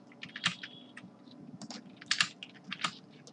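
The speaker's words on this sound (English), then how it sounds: "we have to type this text in between the button tag" Rapid typing on a computer keyboard while editing code, with irregular bursts of close, crisp key clicks and a faint steady hum underneath.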